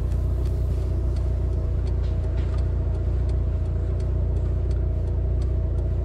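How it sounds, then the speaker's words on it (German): Steady traffic rumble of cars passing close by a car waiting at a left-turn arrow during a 2017 Taubertal drive-out, with engine drone continuous throughout. "Wir bleiben jetzt so lange stehen, bis alle Fahrzeuge an uns vorbei sind."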